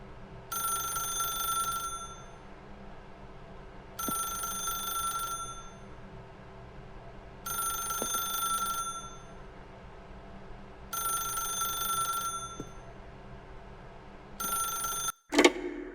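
An old-style telephone bell rings in The Stanley Parable Ultra Deluxe video game, five evenly spaced rings of about two seconds each with quiet gaps, ending in a sharp click as the receiver is picked up.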